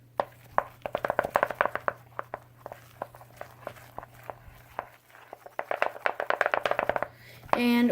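Slime ingredients with baby oil are mixed by hand in quick bursts of wet, squelchy clicking taps, close and bright, with a pause in the middle before the rapid slapping resumes.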